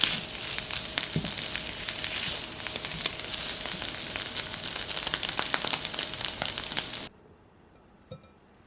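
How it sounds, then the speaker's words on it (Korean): Onions sprinkled with a little salt fry in a pan, a dense continuous crackling sizzle with scattered pops close up, running steadily for several seconds before dropping away to near quiet. "소금 약간 넣고 양파가 타지 않게 불 조절하면서 노릇노릇해질 때까지 볶으세요"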